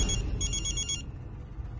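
A telephone rings at night, with a short electronic trill repeating a few times before cutting off, faint and close over a low background hum.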